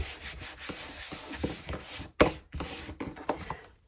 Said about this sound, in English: I just get my sanding block on those corners and just fluff them up a bit